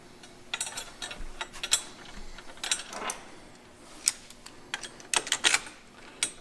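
Ratchet with a 17mm socket tightening a bolt while installing a National Cycle P4202 motorcycle side guard, giving quick bursts of small metallic clicks and ticks in irregular runs, close and fairly quiet.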